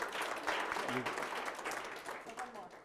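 Audience applause at a superintendent's parent forum, a steady wash of clapping from a seated crowd, moderately distant and soft, with a brief voice breaking through midway.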